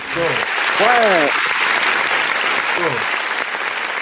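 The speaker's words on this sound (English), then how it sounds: "Let me get that applause on that, brother" Steady applause from a crowd fills the whole stretch, dense and continuous, with a voice speaking over it now and then.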